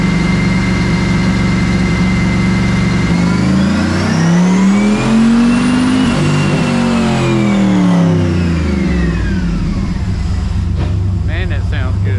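A turbocharged LS3 engine in a 1970 Chevelle roars at full load on a chassis dyno, climbing steadily in pitch through a long pull and then easing back down, loud and close throughout.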